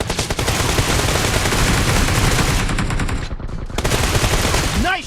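Gunfire in the PUBG video game comes as loud, dense rapid-fire bursts that fill the whole stretch, with a brief thinning near the middle before the shooting surges again.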